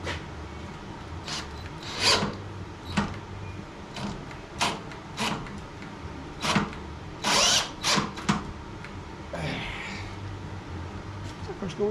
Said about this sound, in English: I drilled an 1/8 inch hole for that.